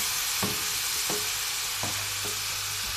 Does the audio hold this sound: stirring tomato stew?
yes